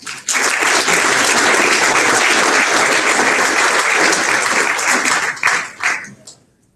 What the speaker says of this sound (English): round of applause real quick for all our sponsors, our executive board, everyone for another fantastic convention